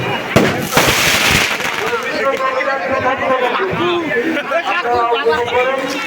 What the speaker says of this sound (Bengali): আমাদের আতশবাজি করে